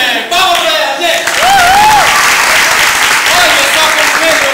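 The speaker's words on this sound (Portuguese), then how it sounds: "Palmas pra ela, gente!" A church congregation claps loudly and continuously in a dense wash of applause, with a voice shouting over it near the start and middle.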